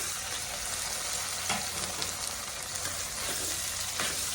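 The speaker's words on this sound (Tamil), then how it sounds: "மசிஞ்சு வர நல்லா இதை நம்ம வதக்கிக்கலாம்." Tomatoes sautéing in a pan for goat boti gravy hiss in a steady, even sizzle, broken by a few soft stirring strokes, with no one talking.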